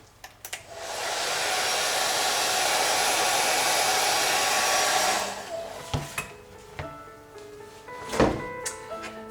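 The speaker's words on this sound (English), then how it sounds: "And I just happen to have a hairdryer here." A hairdryer blows steadily for about five seconds while drying a watercolor painting of semi-abstract rocks, then cuts off, followed by a few scattered knocks and handling noises.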